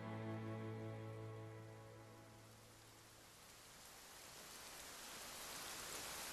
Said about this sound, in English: All the music and sound ceases except for the pattering of rain.